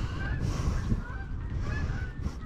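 Geese honking near corn fields as a flock comes in to land, a steady chorus of overlapping honks with low rumbling noise underneath, continuous throughout.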